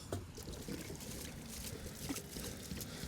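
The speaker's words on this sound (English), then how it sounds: "So let's put a bit more water on there, see if we can soften up the ground a bit more." Water poured onto hard ground to soften it for driving a ground rod, a soft uneven trickle and splash with faint clatter, fairly quiet throughout with no talk.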